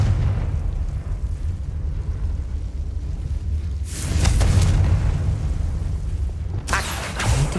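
Confringo spell blasts in Hogwarts Legacy: two loud, bursting explosions with crackling tails, each lasting about a second, rising over a low, rumbling ambient bed.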